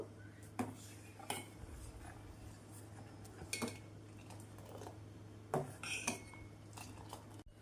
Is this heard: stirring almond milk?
yes